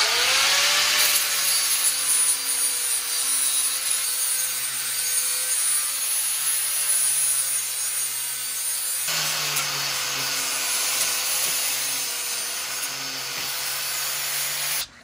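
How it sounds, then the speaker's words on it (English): Steady abrasive rasping of a 120 grit sanding disc working over motor mounts, a continuous loud grinding hiss with a sustained motor tone that shifts pitch slightly partway through, no voices. "120 grit sanding disc"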